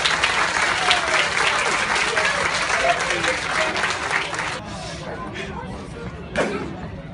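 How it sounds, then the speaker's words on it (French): Audience applause at a martial arts and Muay Thai demonstration, a dense, steady burst of many hands clapping for several seconds that thins and fades near the end, with one last brief swell. "On applaudit Alexis, s'il vous plaît."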